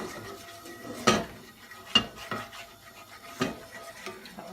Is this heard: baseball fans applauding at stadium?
no